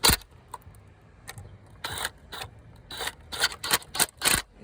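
Wrench tightening the valve cover bolts on a 2005 Mazda 3 with a 2.3 engine, a series of short, sharp clicking ratchet strokes in uneven bursts, close and fairly quiet, with no talking.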